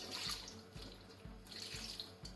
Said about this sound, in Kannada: ಮತ್ತೆ ದಂಟು ಬೇಯಲಿಕ್ಕೆ ಬೇಕಾದಷ್ಟು ನೀರು